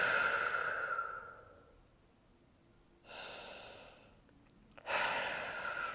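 A deep exhale during a yoga side-body stretch, a long breathy rush fading over about two seconds, followed by two more audible breaths, close and alone with no talking.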